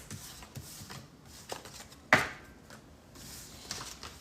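Tarot cards are shuffled by hand close up in soft, scattered riffles and taps, with one sharper snap of cards partway through, in a quiet room.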